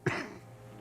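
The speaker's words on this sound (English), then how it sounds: "The man interrupts him, then coughs." A man in the video game Disco Elysium gives a single short, rough cough that fades out quickly, quiet and isolated.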